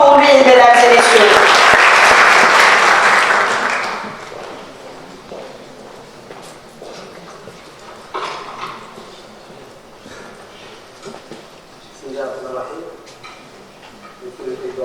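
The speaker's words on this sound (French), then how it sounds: "Des applaudissements pour lui, mesdames et messieurs." A seated audience at a university event applauds warmly for the CGEM president, loud clapping that fades after about four seconds into quieter room noise, stray movements and brief talk.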